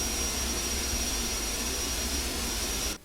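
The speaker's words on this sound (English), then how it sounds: "I don't know if it's me or if the aircraft engine is like really freaking loud." A jet engine roars in the FSX flight simulator game: loud, even, continuous turbine noise with a thin high whine on top. The sound cuts off abruptly just before the end, and nobody speaks.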